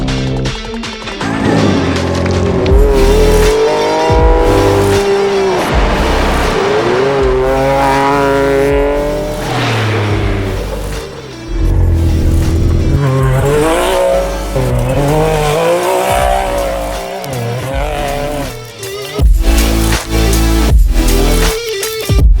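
A Can-Am X3 side-by-side fitted with a WP Pro six-piston big brake kit, engine roaring loudly and steadily throughout with revving surges and a few sharp knocks, close and dominant with no talk.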